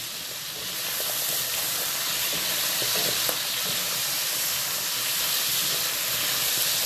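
Ground beef browns in a pan with a steady, close sizzle and hiss of fatty juice that holds throughout, no voices.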